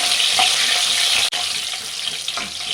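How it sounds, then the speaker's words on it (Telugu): Bay leaves and green chillies frying in hot oil, a dense, steady sizzle that stays loud and even throughout, broken by one brief dropout. "ఆయిల్ హీట్ అయ్యాక రెండు బిర్యానీ ఆకులు ఒక రెండు పచ్చిమిర్చి వేయాలి వేసి ఇది ఇది కొద్దిసేపు ఫ్రై చేసుకోవాలి"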